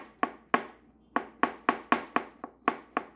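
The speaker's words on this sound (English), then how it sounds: "I'm chopping right now." Knife chopping ingredients for a gluten-free chicken lasagna on a cutting board, about ten sharp, close knocks in an uneven rhythm, with no talking.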